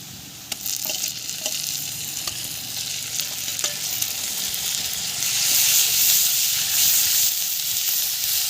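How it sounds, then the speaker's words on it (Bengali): Ginger, garlic and onion paste hits frying onions in a pan with a few stirring taps, then a loud, hissing sizzle swells and holds steady. "এখন বেটে রাখা এখানে আদা, রসুন আর পেঁয়াজ বাটা দিয়ে দেব"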